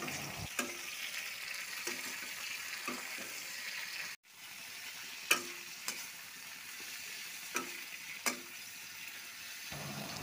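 Capsicum frying in a pan with salt, stirred now and then, a steady close sizzle broken by sharp scraping clicks of a spoon against the pan.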